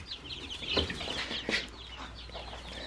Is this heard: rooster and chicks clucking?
yes